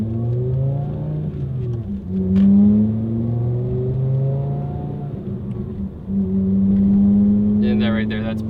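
A 2.5-litre Volkswagen engine with an AWE Tuning exhaust hums and rises in pitch through mild acceleration, a steady droning exhaust note with brief dips between gears.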